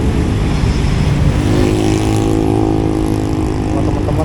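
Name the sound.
motorcycles speeding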